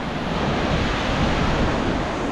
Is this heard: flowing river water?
yes